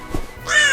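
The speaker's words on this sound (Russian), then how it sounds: "ворона" A crow gives a single harsh caw, short and close, heard alone.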